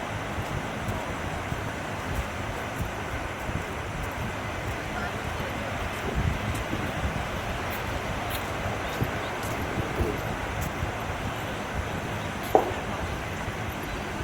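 Strong wind blows outdoors, a constant low roar buffeting the microphone for the whole stretch, with a faint knock near the end and no clear voices.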